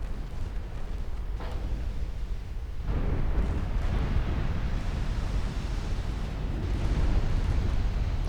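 A battleship explodes and sinks during a naval battle in Ultimate Admiral Dreadnoughts, a deep rumbling blast followed by heavy, surging water and wind-like roar that grows louder toward the end.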